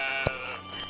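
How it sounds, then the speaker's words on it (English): Sheep bleating in the video game Old Man's Journey, one short clear bleat over a steady tonal game soundtrack. "I just have to get past the annoying sheep."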